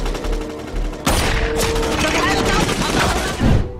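Gunfire crackles in dense, rapid bursts like a fusillade, starting with a sudden loud onset and continuing steadily, with voices mixed underneath.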